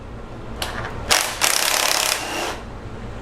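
A ratchet fitted with a 10mm socket loosens a bracket nut on a Jeep engine, making a short burst of fast, close clicking that lasts about a second, followed by fainter handling noise and no talk.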